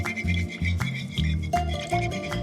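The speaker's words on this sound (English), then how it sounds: "Then I'm whisking these." Lime and orange juice with olive oil and a teaspoon of salt whisked in a bowl, a quick steady rhythmic scraping and clicking of the whisk, close and fairly loud, with no talking.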